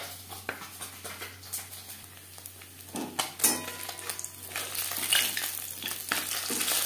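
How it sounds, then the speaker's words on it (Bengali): Bele fish frying in oil in a pan for a spicy curry, a steady close sizzle with scattered crackles and occasional clinks of a utensil against the pan. "প্রথম ব্যাচের মাছ ভাজা হয়ে গেছে, একটা পাত্রে উঠিয়ে নেব।"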